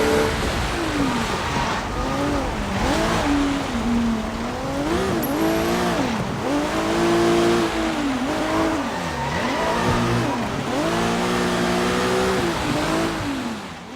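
Car engine in the Sleeping Dogs video game revving up and down repeatedly as the car drives, loud and continuous, with rising and falling pitch sweeps.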